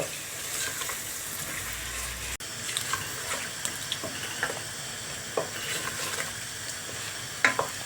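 Tomato paste, pepper paste and spices being stirred in a pan while making soup, a soft sizzle with scattered scraping clicks of the spoon against the pan and one sharp knock partway through, fairly quiet and without talk.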